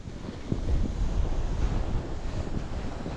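Steady wind gusts buffet the microphone outdoors on a mountain ridge at Bukovel during snow kiting, a continuous low roar with no voices.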